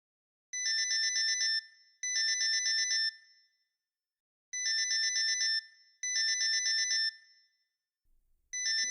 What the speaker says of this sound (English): I groan as I reach over to my phone and stop the alarm.